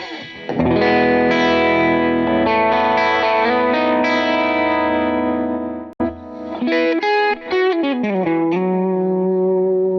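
Compressed clean electric guitar played through an HX Stomp, with chorus and reverb effects giving a focused, forward tone. Sustained chords and melodic notes ring out, pause briefly, then continue with a busier phrase.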